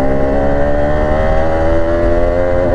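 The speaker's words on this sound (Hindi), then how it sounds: "कार आ रही है, बाइकें आ रही हैं" Steady traffic noise of cars and motorbikes passing along a road on a foggy Republic Day ride, a continuous loud engine drone with a slight rise near the end and no voices.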